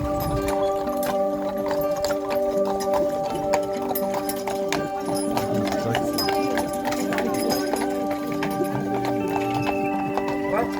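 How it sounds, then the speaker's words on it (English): Steady clip-clop of a team of three horses' hooves pulling a large passenger carriage on Mackinac Island, Michigan, with an occasional whinny and voices talking in the background amid a busy outdoor bustle. "carriages are pulled by a team of 3 horses and hold 35 passengers"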